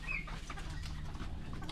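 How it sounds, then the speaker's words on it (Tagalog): Chickens cluck softly at close range on a small farm, with short scattered calls over a low steady background hum. "Takot yung mga manok."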